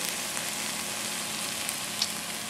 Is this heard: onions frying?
yes